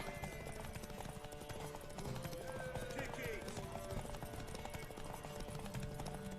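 Rhythmic hoofbeats of a galloping horse in the video game Witcher 3 beneath busy game music and voices, steady and fairly loud throughout.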